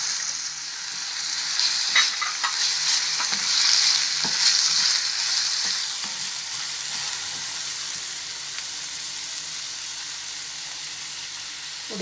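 Tomatoes frying with onion in a pan for a street-style ragda patties dish, a steady close sizzle with occasional stirring scrapes and clinks throughout.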